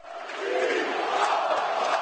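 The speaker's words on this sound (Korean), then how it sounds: "6만 관중이 함께하는 축구 경기장." Roar of a 60,000-strong football stadium crowd at a Brazilian professional match, a dense, steady wash of cheering and shouting that swells slightly and holds at a loud level throughout.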